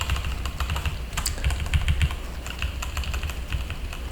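Computer keyboard keys are pressed in a quick, uneven stream of close clicks and taps while editing in a Unicode text-graphics program, with no talk.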